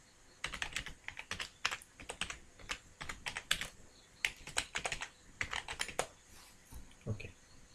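Typing on a computer keyboard while writing Java code: quick, irregular clusters of crisp key clicks with short pauses between bursts, close and fairly quiet, with no talking.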